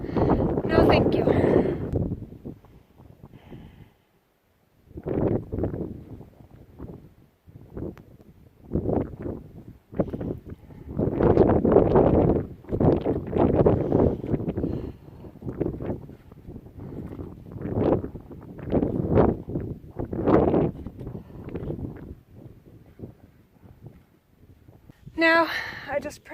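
Strong wind buffets the microphone on a desert mountain at Makhtesh Ramon, coming in loud, rumbling gusts with brief lulls between them, close and harsh.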